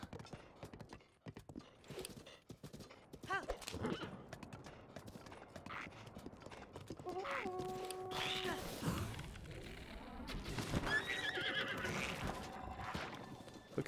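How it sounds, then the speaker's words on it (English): A horse in Zelda: Breath of the Wild gallops with rapid clip-clop hoofbeats and then gives loud whinnies over the running, with a faint voice speaking early on. "Come on, horsey, you can do it."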